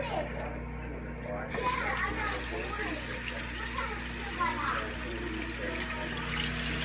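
Tap water runs steadily while a vegetable is washed and rubbed by hand under the faucet in a home kitchen, a continuous close splashing wash with no speech.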